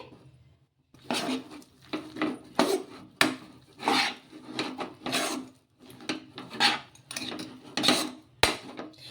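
Homemade Kurkure dough being stirred and mixed in a pan, giving repeated scraping, rasping strokes in uneven bursts with short pauses, close and fairly loud with no talking.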